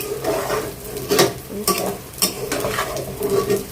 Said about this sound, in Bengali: রসুনটা একদম যখন ভাজা হয়ে গেছে তখন দুধার সবজিটা ঢেলে দিলাম